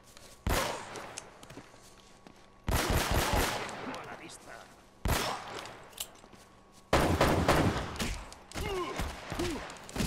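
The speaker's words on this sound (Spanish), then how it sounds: "Dos disparos a la cabeza." Bursts of gunfire in the video game Uncharted, several loud rapid volleys separated by short pauses, close and punchy with occasional thuds between shots.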